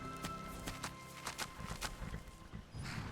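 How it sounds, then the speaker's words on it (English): Horse hooves clip-clop in an irregular rhythm in The Elder Scrolls V: Skyrim with the Requiem mod, over a steady background hum, with a few sharp knocks scattered through. "Got horses that need shoeing"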